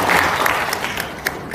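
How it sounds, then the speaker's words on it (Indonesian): Audience applause at an inauguration ceremony in Jakarta, a short burst of steady clapping that fades a little toward the end, with faint speech mixed in. "Boleh tepuk tangan?"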